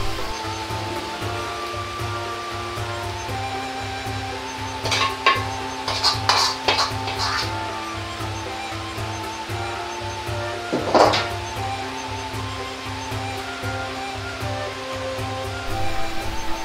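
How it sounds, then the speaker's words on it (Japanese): Mapo tofu is slid into a ladle and poured into a serving dish, giving soft wet sloshing with a few light clinks of the ladle against the dish over a low background hum. "豆腐を崩さないように滑らせお玉に入れ皿に流し入れます。"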